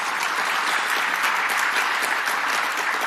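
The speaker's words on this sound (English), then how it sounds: "Can we get a round of applause, please?" Sustained, dense applause from an audience at a live journalism panel, even crowd clapping filling the full few seconds with no voices on top.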